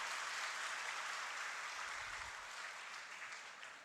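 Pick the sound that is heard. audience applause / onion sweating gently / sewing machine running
audience applause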